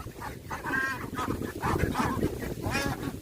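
Four-week-old ducks quacking and honking steadily in a noisy flock, calls overlapping continuously at close range.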